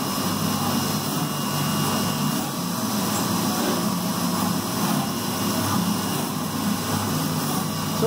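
A machine mills the top of a two-piece timing cover for six-cylinder engine work, giving a loud, steady, broadband cutting roar that holds evenly and close throughout with no talk.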